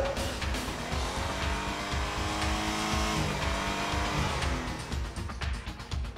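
Remote-control race cars whine with buzzing motors and screech their tires as they skid through turns. The sound is dense and continuous, with no talking.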